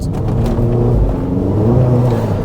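A SEAT Altea car's modified exhaust rumbles and revs on the move, a deep throaty drone with rising and falling pitch, loud and close, no talking.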